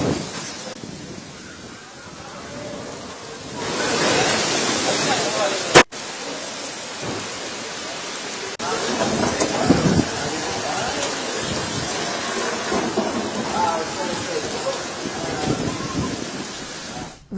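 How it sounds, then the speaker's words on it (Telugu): Heavy rain pours down around the AP Secretariat near Vijayawada, a loud continuous wash with rumbling thunder and one sharp crack partway through. "చిరుజల్లులు కురుస్తున్నాయి"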